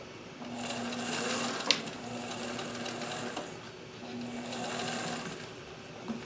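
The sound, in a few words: sewing machine stitching over a jeans seam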